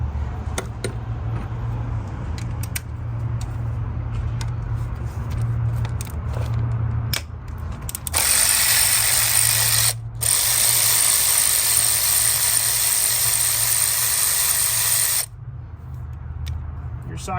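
A tool works on a hex bolt during knock sensor replacement on a Lexus ES 300, with a low steady background hum, scattered clicks and a loud hissing burst midway.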